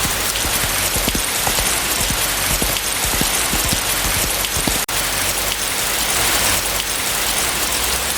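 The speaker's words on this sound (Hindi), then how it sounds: "ये बारिश रुकने का नाम नहीं ले रही" Heavy rain pours steadily at night, a dense close hiss of drops drumming on surfaces with no letup across the whole stretch, loud and continuous with no voices.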